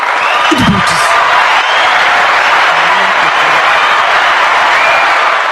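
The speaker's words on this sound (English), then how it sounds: "Just another round of applause" Steady, dense audience applause runs from start to finish on a heavyweight boxing wrap-up show, loud and even, with a brief louder burst near the start.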